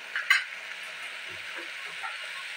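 Onion and tomato fry quietly in a pan, a low, even sizzle with a couple of soft stirring scrapes near the start.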